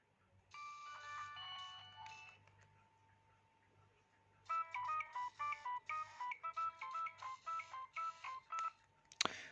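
Polyphonic ringtone melodies from a Nokia 6016i phone play in two bursts, the second a choppy run of repeated short beeping notes, over a faint low hum.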